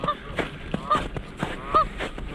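Geese on water during a winter hike at the Sensiba Unit, honking repeatedly in nasal overlapping calls, several birds close by over a soft outdoor background.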